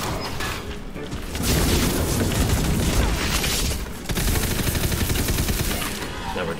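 Gunfire from the Black Powder gun in the video game Wonderlands during a boss fight: a dense, loud, continuous barrage of shots and impacts that fills the clip with only a brief dip near the four-second mark.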